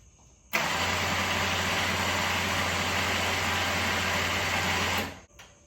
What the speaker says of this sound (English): I actually got the winch to actually work because before it wouldn't do anything